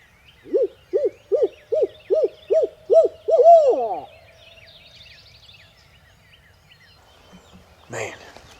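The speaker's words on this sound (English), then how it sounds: "There's owls owling." Owls hooting in the morning woods, a series of about seven evenly spaced deep hoots ending in a longer wavering call, clear and fairly close, followed by quieter bird sounds and a brief voice.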